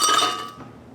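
A cup of crushed ice from a refrigerator drops into a blender with bright glassy clinks and a quick cascading rattle that fades off within a second.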